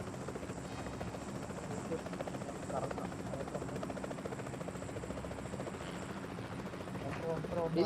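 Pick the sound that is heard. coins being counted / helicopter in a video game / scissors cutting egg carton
helicopter in a video game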